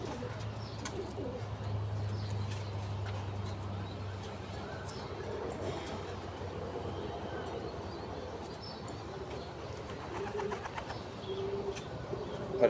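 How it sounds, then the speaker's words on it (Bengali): Pigeons in a loft, including a female racing pigeon, give low rounded cooing calls that recur through the whole stretch, with faint chirps and steady background noise around them. Nobody speaks. "এটা একটা মাদি কবুতর"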